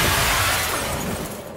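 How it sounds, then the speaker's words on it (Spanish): Glass shattering in the video game Lords of the Fallen, a loud close crash of breaking panes that fades off within a second and a half. "Han explotado los cristales"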